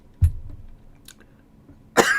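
A single sharp cough, then near silence with faint rustling, followed by a louder raspy coughing burst at the end.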